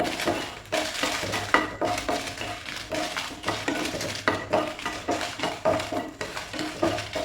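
Red chillies dry-roasting in a pan for Kerala-style chicken roast masala, with a steady run of scraping stir strokes and faint crackle from the pan, repeated through the clip without any talk.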